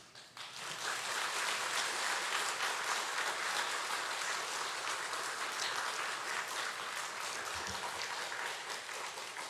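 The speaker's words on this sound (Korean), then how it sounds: "귀한 사자 목사님 나오실 때 우리 큰 박수로 모시겠습니다" A church congregation at a summer revival gives a big, sustained round of applause to welcome a visiting pastor, dense and even clapping with no voices over it.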